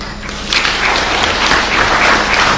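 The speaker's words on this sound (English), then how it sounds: "Another round of applause, please, for Dr. Murray." A crowd applauding after a speech at a live event, clapping that swells and then holds loud and steady, with many hands close together.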